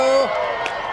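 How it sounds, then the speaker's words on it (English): Crowd of spectators cheering and whooping at a total solar eclipse, a broad burst of voices with a sharp shout near the start, continuous and loud for the whole second. "And the crowd goes wild"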